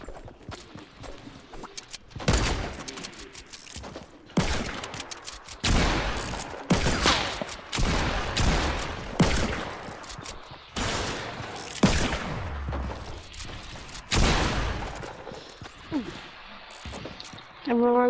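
Rapid bursts of gunfire in the video game Fortnite, loud and repeated across the stretch in clustered volleys, with footsteps and players talking between shots.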